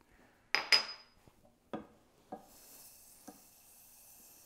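A utensil clanks and scrapes against a pan as honey is stirred into hot caramel, with a few sharp metallic knocks followed by softer taps and a faint sizzle.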